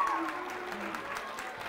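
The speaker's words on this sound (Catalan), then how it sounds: "i aplaudiu-los també, eh?" Students and teachers receive a round of applause in a studio audience on a local television program, moderate and fairly quiet, with a faint voice or tone briefly over it.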